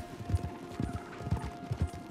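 Horse hooves clip-clop in Red Dead Redemption 2, several steady paired thuds at walking pace, soft and fairly close, with no talk over them.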